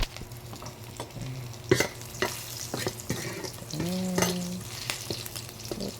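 Adobong humba cooks in a pan with ginger: steady frying sizzle with stirring scrapes and a few sharp clinks, moderately close, with no talking.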